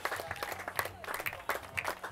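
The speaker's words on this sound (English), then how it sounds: "You can hear the crowd applauding behind me here" Scattered applause from an outdoor crowd at the ÖTILLÖ 2014 swimrun race as finishers climb the last hill, with a burst of clapping that swells and fades over a couple of seconds.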